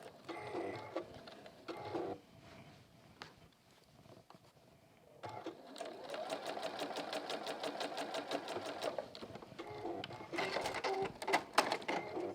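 A domestic sewing machine stitching a bucket hat runs in a long steady burst of rapid mechanical clatter, with a short run at the start, a pause with quiet handling, then continuous sewing.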